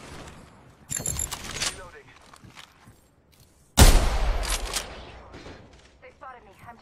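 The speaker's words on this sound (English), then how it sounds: "They spotted me. I'm taking shots." Bursts of gunfire from the video game Halo Infinite, with one sharp volley early and a louder, heavier barrage midway that trails off, over low in-game sounds and a voice talking.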